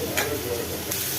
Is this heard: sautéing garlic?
yes